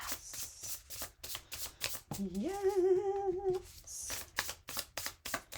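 Tarot cards being shuffled by hand, a fast crisp riffling rhythm close up, briefly interrupted midway by a sung or hummed voice before the shuffling resumes.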